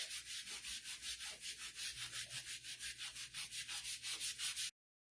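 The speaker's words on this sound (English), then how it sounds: "So first you want to apply your surface wax, rub it in, and then rub it off." Wax being rubbed across a chalk-painted craft surface with a cloth or brush in quick, steady back-and-forth strokes, a close, loud rhythmic scrubbing with no voices.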